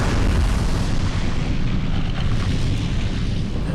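Explosions in the shooter game Defiance make a continuous, heavy rumbling roar of booms that sit close and loud throughout, with no clear gaps between blasts.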